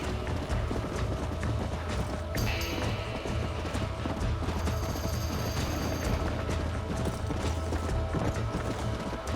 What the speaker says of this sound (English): Riding horses in this game is A lot more painful than I remember.